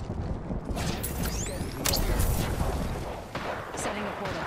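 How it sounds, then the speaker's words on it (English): Rapid gunfire crackles through an Apex Legends firefight, with dense bursts and heavy booms layered over game voice lines and background talk. "Opening fire."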